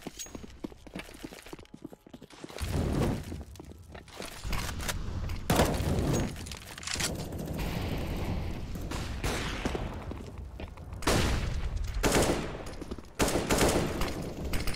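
Bursts of rifle and pistol fire crackle through a CS:GO match on the Train map, rapid rattling volleys and single shots at varying distances, fairly faint and layered over background game ambience.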